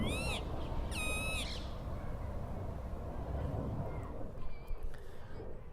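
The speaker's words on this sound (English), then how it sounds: "These birds, man. Listen to that." Wild birds call in Greenwich Park: a few harsh, repeated calls early on and a fainter call later, heard over steady outdoor background noise with no talking.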